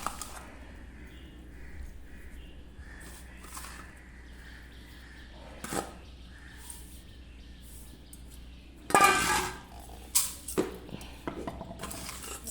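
Oil and spices being worked into pickle in a bowl, giving faint scraping and clinking of utensils, with a louder burst of rattling and mixing clatter near the end.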